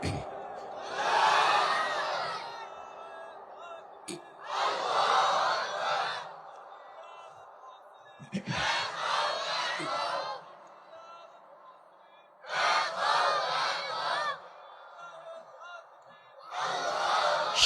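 A large gathering at a Bangladeshi religious sermon rally chanting the takbir slogan Allahu Akbar, five loud call-and-response bursts of massed voices separated by brief pauses.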